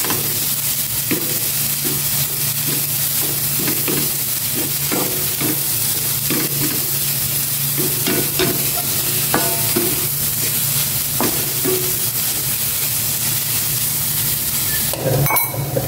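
Bitter gourd (ampalaya) sizzles steadily as it fries in a pan, a dense continuous hiss punctuated by spatula scrapes and crackling pops, with a louder clatter near the end.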